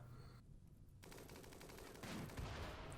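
Bursts of gunfire from the colony game RimWorld, quiet and layered, with rattling rapid shots building and thickening toward the end, no voices.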